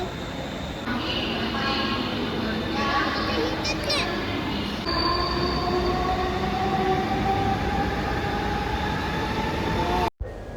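A train at a railway station at night, its steady loud rumble and rolling wagons filling the scene, with squealing wheels and faint voices of people on the platform in the background.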